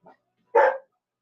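Dogs barking: a faint short yip followed by one loud, close bark, with silence around them.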